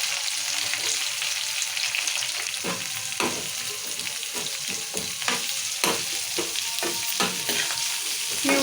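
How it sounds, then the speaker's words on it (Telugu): Chopped onions sizzle and fry in hot oil for tempering a spinach dal, with a constant loud crackle broken by repeated scraping stirs of a spoon against the pan. "నేను ఉల్లిగడ్డ కూడా వేస్తున్నాను ఇప్పుడు"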